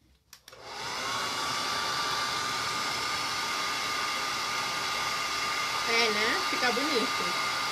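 A handheld hair dryer on its cold setting switches on and blows a steady, loud whoosh over paper stuck down with white glue, with a voice speaking briefly over it near the end.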